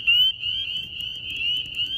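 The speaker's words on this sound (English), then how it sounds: "So it sounds as if there's also another one right to my side somewhere, because he's chirping loudly." A tiny frog calls loudly and close, a continuous high-pitched trilling chirp that pulses slightly in strength, with a faint low rumble underneath.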